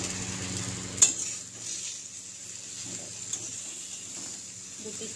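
Eggplant slices fry in mustard oil in a covered kadai, giving a soft, low sizzle with a sharp metallic clink early on and quiet stirring scrapes afterward.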